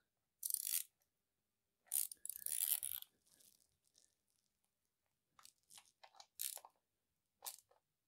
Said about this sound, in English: I'm going to tighten down these bolts by hand